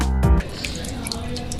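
Water is poured onto a printer and splashes, a soft hissing, dripping wash heard up close after a brief low voiced sound at the start.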